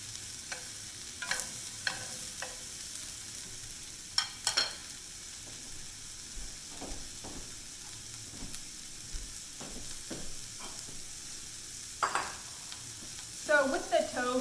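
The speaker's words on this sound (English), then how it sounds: "Once the shallot is browned," Tofu fries in a pan with browned shallot, giving a soft continuous sizzle punctuated by scraping stirs and clinks of a utensil against the pan.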